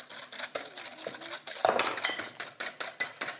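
Egg yolks and sugar whisked by hand in a bowl for sabayon, a fast, steady run of bright metallic clicks from the whisk striking the bowl, close and fairly loud with no talk.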